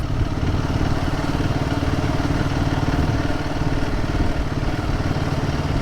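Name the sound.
Royal Enfield Guerrilla 450 motorcycle engine accelerating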